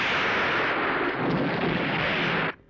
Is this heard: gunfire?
yes